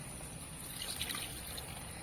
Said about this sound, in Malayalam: നമ്മളിതിൽ വെള്ളം ഒഴിക്കാൻ പോവാണ്